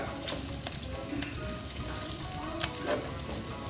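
Onions sizzle and fry steadily in a hot pan for a pork kilayen (igado) dish, a continuous close crackle with small pops and a brief stir near the end.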